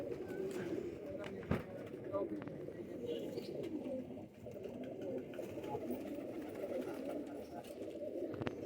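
Pet pigeons, including banded-tail birds, coo in a low, continuous murmur close at hand, with a sharp knock partway through and people talking over them.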